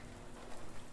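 Steady rain ambience fills the background of the horror video game Late Night Mop, a dense, even hiss of falling drops with no voices over it.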